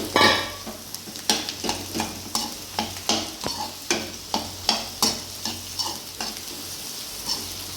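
Ground masala of peanuts, garlic and dry red chillies roasting with browned onions in a pan, with a steady oily sizzle and a regular run of scraping stirs, close and clear, no talking.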